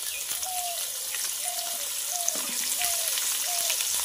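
Chopped onions frying in hot oil for a Bengali duck curry, a steady loud sizzle and crackle throughout, with faint repeated tonal chirps over it.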